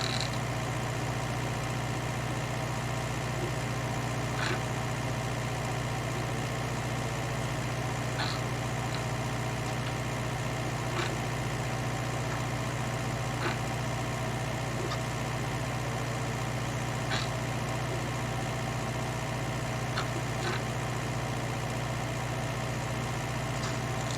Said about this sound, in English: Bit of a thirsty tractor.